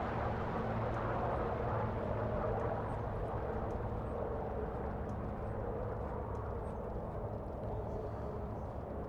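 The piston engine of a Spitfire Mk IX in the DCS flight simulator drones steadily with a broad, even rumble, moderately loud and unbroken, with no talk.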